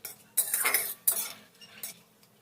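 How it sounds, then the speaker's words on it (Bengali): A utensil stirring whole garam masala, bay leaf, chilli and cumin in hot oil in a pan: three or four close scraping strokes against the metal, with only a faint sizzle beneath and no voices. "ফোড়ন দেওয়ার পর ফোড়নটাকে 30 থেকে 40 সেকেন্ড একটু নেড়েচেড়ে নিতে হবে"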